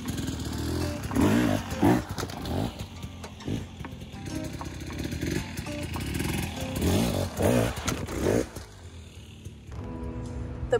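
A trials motorcycle punching over a log revs in sharp throttle bursts, with engine roars rising and falling around clattering and scraping contact as the bike climbs the obstacle, heard close with no talking.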